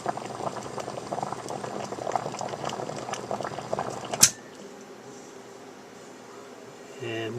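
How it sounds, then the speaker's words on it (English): Water bubbles and churns at a rolling boil on a Mini-Ductor induction heater, then a click as it switches off and the bubbling quickly dies away to a quiet hum. "watch how fast the boiling stops when I turn off the Mini-Ductor"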